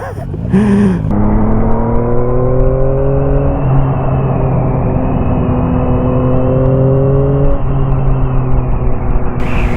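Close, loud engine drone of a 2023 Yamaha MT-09 SP motorcycle pulling hard in fourth gear, pitch climbing steadily through two long pulls with a brief shift between them, over rushing wind.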